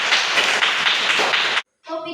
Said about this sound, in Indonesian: tepuk tangan dulu untuk Mita